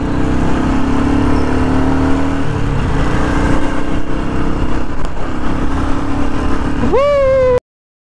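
Motorcycle engine holding a steady rumble during a city ride in Pune, with a sharp rising rev at the end before the sound cuts off abruptly.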